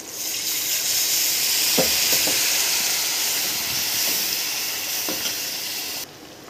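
A steady, loud sizzling hiss of paneer mixed-vegetable gravy with ghee cooking in a hot pan, with a few soft stirring clicks and bubbling pops, uninterrupted for several seconds.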